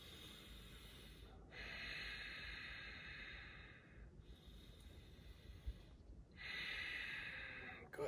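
Slow, audible breathing during a yoga stretch, long hissing inhales and exhales alternating at a calm, even pace, close and fairly soft.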